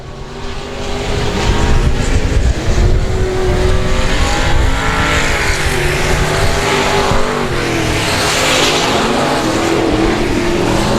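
Dirt-track race cars roar around a dirt track at a qualifying night, a dense, loud wall of engines swelling and fading as the pack passes, continuous with no talk.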